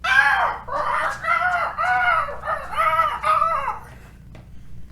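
Children imitating parrot sounds as they move across a room, a run of high, squawking vocal calls in quick succession for about four seconds, fairly close, with no other talk.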